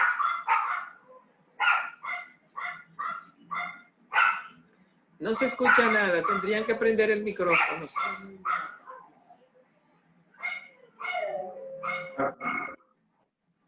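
A dog at home gives a run of short, close barks, then a person speaks over the middle stretch before a few more barks return near the end.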